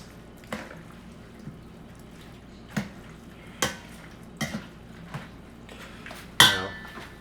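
Metal tongs clink against a pan while pasta is slowly turned and tossed, producing scattered sharp clinks and soft wet squishes at irregular intervals, ending with a louder clatter.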